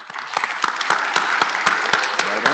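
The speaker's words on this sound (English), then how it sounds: "the applause has got a little softer over time" Audience applause at an IETF technical conference session of lightning talks, a dense steady clapping from a crowd that stays fairly loud and even throughout, with no voices over it.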